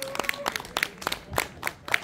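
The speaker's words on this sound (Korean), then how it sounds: "다시 한번 뜨거운 박수 부탁드리겠습니다." Sparse, scattered hand claps from a small outdoor festival audience at a Miryang Park clan celebration performance, irregular and fairly close, with a faint voice in the background.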